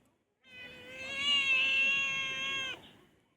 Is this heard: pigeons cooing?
no